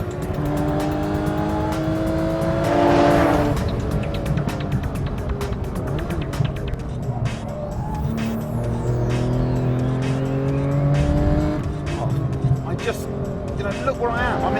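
A Singer-built Porsche 911 with a GT3 crank revs hard on a sparse desert racetrack, its engine note rising and falling in sustained pulls with tire squeal, loud and close, while someone talks over it.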